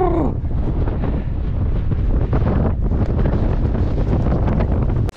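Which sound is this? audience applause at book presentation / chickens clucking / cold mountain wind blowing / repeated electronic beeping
cold mountain wind blowing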